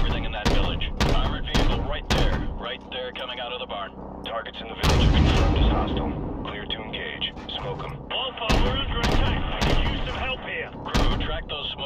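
AC-130 gunship cannon fire pounds a village in Call of Duty 4, loud heavy booming shots in an irregular series with echoing rumbles, while radio voices talk over the barrage.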